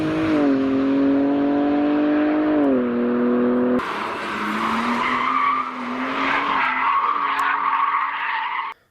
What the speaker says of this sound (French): La prochaine M3 a aussi commencé ses tours de piste sur le NURB.